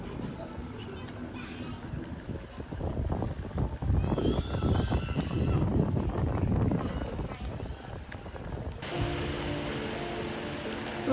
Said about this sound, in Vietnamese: Mang theo tâm trạng nặng trĩu dưới cơn mưa mỗi lúc một dày hạt